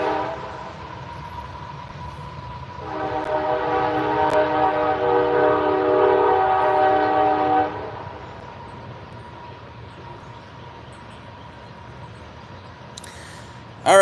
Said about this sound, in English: Alright, sorry about the noise. We got a train coming